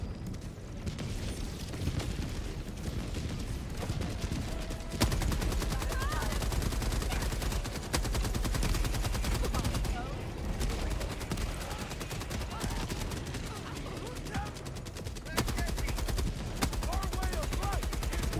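Sentry gunfire in Helldivers 2, continuous loud rapid automatic bursts mixed with explosions and booms across the whole stretch, dense battle noise throughout.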